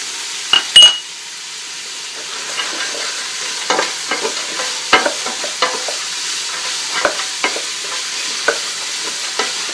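Vegetables stirred in olive oil in a pan over medium heat, a soft sizzle beneath irregular scrapes and clinks of the utensil against the pan, with a sharper knock near the start; no one talks.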